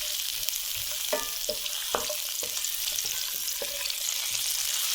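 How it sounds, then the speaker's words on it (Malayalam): Cashews and raisins frying in melted ghee give a steady, close crackling sizzle with scattered sharp pops and faint stirring, and no one speaks. "ഇനി ഇതൊന്ന് ഈ നെയ്യിലിട്ട് നല്ല പോലെ നമുക്ക് വറുത്തെടുക്കണം."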